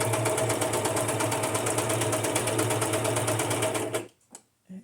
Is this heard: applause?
no